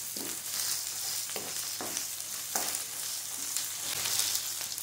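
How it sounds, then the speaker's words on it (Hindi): Ginger, garlic and green chili paste frying in a pan for bhindi masala, a steady close sizzle with occasional soft stirring scrapes, alone without talk. "ये डाल के हम इसे थोड़ी देर के लिए भून लेंगे ताकि इसका कच्चापन खत्म हो जाए।"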